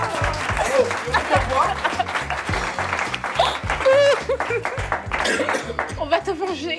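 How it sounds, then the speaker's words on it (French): Studio audience on a French television quiz game show claps and laughs, the applause running throughout under a pulsing music jingle, with voices talking over it. "Et on l'applaudit très fort."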